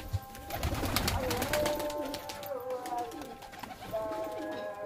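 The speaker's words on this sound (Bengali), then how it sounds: "এটা হচ্ছে মাদা পায়রা বন্ধুরা এইটা হচ্ছে মাদা পায়রা।" Pigeons coo steadily in a rooftop pigeon loft, their low rolling calls overlapping close by while someone speaks over them.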